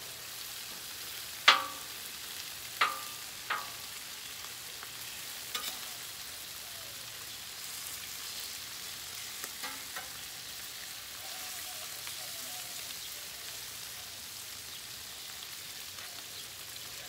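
Bacon crackles on the hot end of a griddle in a steady broadband sizzle, with a few sharp pops early on and fainter ones later, no talk over it.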